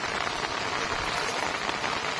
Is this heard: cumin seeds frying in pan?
no